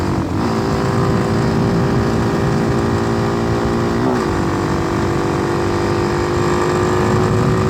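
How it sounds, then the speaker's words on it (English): A Hawk 250 motorcycle fitted with a swapped Loncin RE250 engine, pulling in sixth gear, with a steady loud engine drone and wind roar from the rider's position and a brief pitch shift midway. "I could crack the throttle and it pulls right through 6th gear"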